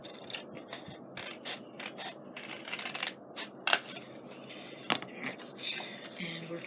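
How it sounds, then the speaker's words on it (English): Scissors trim paper for a scrapbook page in a string of quick, close snips and crisp paper rustles, with a couple of sharper clicks. "So I'm going to trim this excess off here. I think I have some scissors sitting here."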